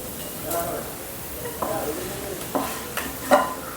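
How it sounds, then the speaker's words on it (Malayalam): Chopped ginger fries in coconut oil on a low flame for a Thrissur-style sadya puli inji, giving a soft steady sizzle broken by a few scraping stirs of a spoon against the pan, with a voice talking over it. "ഇത് നമുക്കിത് ഒന്നുകൂടെ ഒന്ന് ഒരിഞ്ഞു വരുന്നത് വരെ നമുക്ക് ലോ ഫ്ലെയിമിൽ വെച്ചിട്ട് ഇളക്കി കൊടുക്കാം"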